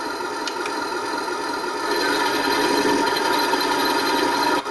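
The electronic engine sound unit of a Heng Long T-34/85 radio-controlled tank gives a steady synthetic engine drone that rises and grows a little louder as the throttle changes, with a few faint clicks.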